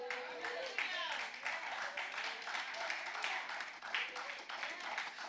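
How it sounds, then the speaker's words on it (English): A church congregation claps together during a sermon, a dense, steady wash of hand claps with scattered cheers holding at an even level throughout. "some of y'all clapping like you don't believe"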